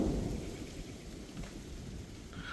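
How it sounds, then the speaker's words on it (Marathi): Rain begins to fall in a Konkan village at the first pre-monsoon shower in May, a soft, steady, low wash with a distant rumble, fairly faint and without voices. "पाऊस पडायला सुरुवात होत आहे इथे"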